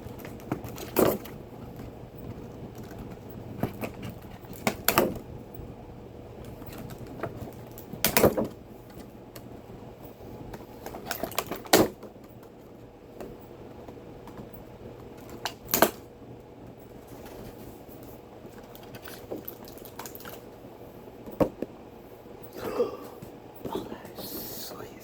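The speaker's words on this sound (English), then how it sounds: "while I get back out my knife and cut the action figures free" Knife cutting plastic packaging and ties to free action figures from a box, heard as scattered sharp clicks, snaps and short scraping bursts at close range over a low steady room hum.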